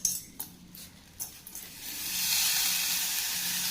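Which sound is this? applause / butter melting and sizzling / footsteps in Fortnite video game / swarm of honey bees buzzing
butter melting and sizzling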